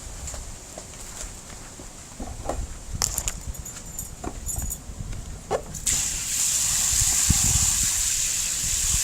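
Water gushes into a bucket during orchid repotting, starting with scattered knocks and handling sounds before a steady, loud rushing pour takes over for the last few seconds.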